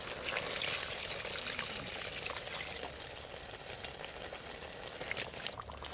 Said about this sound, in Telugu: ఒక గిలాసు నీళ్ళు పోసుకుంటాను.